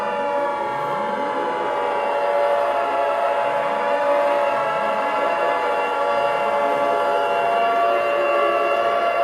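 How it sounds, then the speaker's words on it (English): A loud civil defense siren wails steadily as a nuclear warning in an emergency alert scenario, with repeated rising and falling sweeps held for the whole stretch. "And there goes the nuke sirens again."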